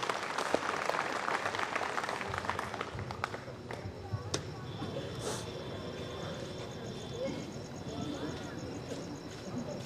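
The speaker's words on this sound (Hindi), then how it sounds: "पूरा सदन जोरदार तालियां" Applause from an audience at a patriotic commemoration evening honouring martyrs, a broad steady wash of clapping across the hall that holds for several seconds, with crowd murmur beneath.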